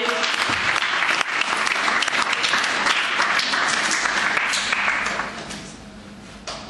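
An audience at a spoken word poetry event claps loudly in a dense, sustained burst, then fades toward the end.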